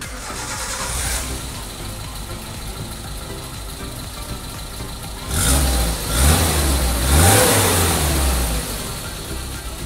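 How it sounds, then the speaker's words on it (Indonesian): A 1999 Suzuki Carry Futura engine cranks and catches, then runs with a few loud revs before settling to a steady idle, heard close up with no talk. "Mesinnya pun masih terasa sangat halus dan mudah di starter"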